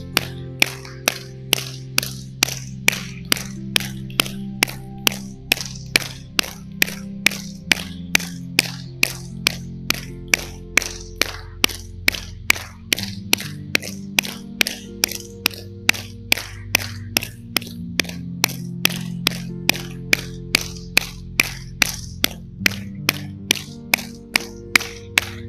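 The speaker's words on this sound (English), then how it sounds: "You can clap 60 until 100 times" Hand clapping as a health exercise, a steady even series of sharp claps repeated many times at a brisk regular pace over soft background music, close and clear.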